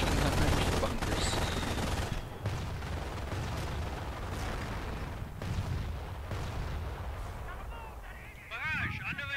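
An artillery barrage and gunfire from the game Company of Heroes, with heavy booms and rattling shots that come close and loud at first, then ease into a rumbling, continuous battle as whining sounds rise near the end.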